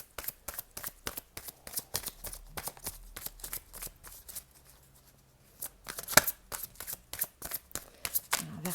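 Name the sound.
oracle cards being shuffled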